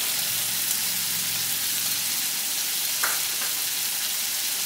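Ground cumin, coriander, chilli powder and turmeric sizzle steadily in hot oil in a pan for Bengali-style vegetarian pea ghugni, a close, even hiss with a faint stir near the end.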